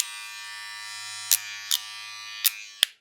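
Stylecraft Rebel hair clipper running close with a steady high buzzing hum, broken by a few brief sharp clicks before it winds down and stops.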